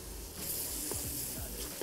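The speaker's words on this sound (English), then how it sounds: "we just want to make sure that we're frying this beautiful beef" Beef for rendang sizzling and frying in a hot pan with aromatics, a steady crackling hiss with a few soft scraping stirs.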